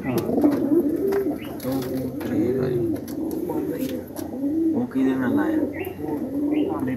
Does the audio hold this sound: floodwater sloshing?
no